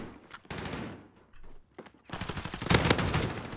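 Rapid Oden rifle gunfire in Call of Duty: Modern Warfare, two loud automatic bursts separated by a brief lull, the second burst longer and heavier.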